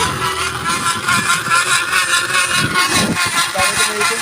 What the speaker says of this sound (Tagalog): Ang ingay ng motor natin